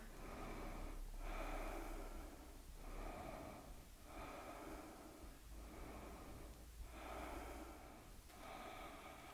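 Slow, audible yoga breaths during an Ashtanga practice rise and fall in an even rhythm, about five long cycles of inhale and exhale close to the listener, with no talking.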